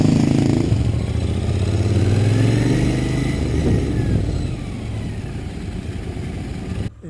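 A Royal Enfield Continental GT 650 motorcycle from 2020 with clip-on bars, ridden through traffic while filtering and lane splitting; its engine drones steadily and loud with close wind rush, easing slightly near the end.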